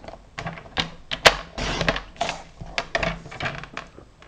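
A paper trimmer (massicot) slicing photo paper to size for a handmade photo album, giving a series of sharp clicks and scraping cuts at close range, irregular bursts with no talking.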